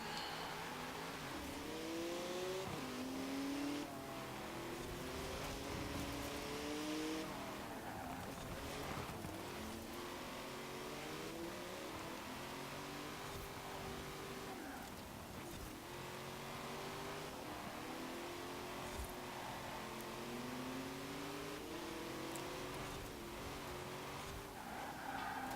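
Lamborghini race car in Forza Horizon 4 on a Fortune Island circuit, its engine revving up and down through repeated gear shifts, steady and loud across the run with occasional tire noise.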